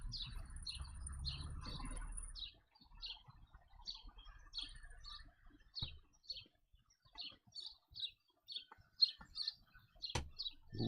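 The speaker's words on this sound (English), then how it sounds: "That loud ass bird's gonna come get you." A loud pet bird chirps in short repeated bursts, bright and close, sounding steadily through the clip over faint room noise.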